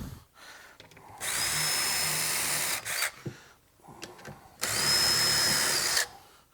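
A power drill bores screw holes into a cabinet face frame in two long whirring bursts separated by a short pause, close and fairly loud, each burst ending with a brief click and rattle.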